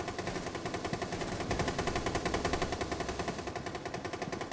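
Rapid automatic hipfire gunfire from a first-person shooter video game, a loud, continuous stream of fast, evenly spaced shots with no voices.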